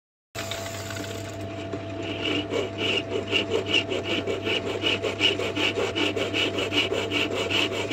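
Grinding on a part during repairs to a Losi LST XXL RC truck, a steady rasping with a fast pulsing rhythm that starts abruptly and runs close and loud throughout, with no talking.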